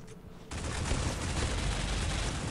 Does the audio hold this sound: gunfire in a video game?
yes